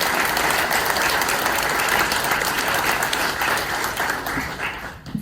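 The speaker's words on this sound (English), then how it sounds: "give a big round of applause for our friend and your friend" Audience applause filling a room, a sustained loud wash of clapping that holds steady and then tapers off near the end.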